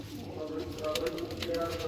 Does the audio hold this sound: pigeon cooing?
yes